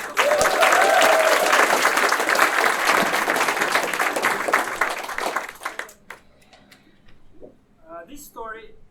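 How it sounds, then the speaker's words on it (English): A live audience at a storytelling event in Amsterdam applauds loudly and steadily, the dense clapping tapering off into scattered claps and a few voices toward the end. "another beautiful round of applause for ourselves"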